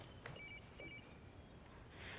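A telephone emits two short electronic beep tones in quick succession, faint against a low background hiss, as the phone fails to work.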